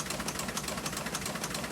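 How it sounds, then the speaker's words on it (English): A historic newspaper printing press runs in the Vineyard Gazette offices in Edgartown, clattering in a fast, steady mechanical rhythm with dense repeated knocks over a constant rumbling drone, loud and close. "That's the sound of the historic press in the Vineyard Gazette offices in Eggertown printing the paper"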